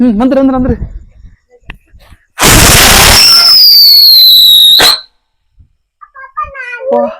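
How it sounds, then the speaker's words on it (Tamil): A whistling chakkar firecracker from Sivakasi bursts into a loud hissing spray, then a rising shrill whistle that holds for about two seconds before cutting off. Children talk briefly before and after it. "அடுத்தது வந்து விஸ்லிங் சக்கர்"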